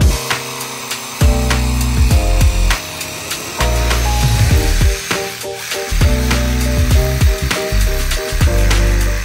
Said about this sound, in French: la scie sabre c'est pas mal